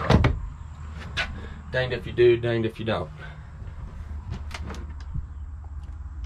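Drawers and cabinets in a 2014 Lance 1191 truck camper slide open and shut nearby with several short rolling rattles and knocks, and someone talks over parts of it.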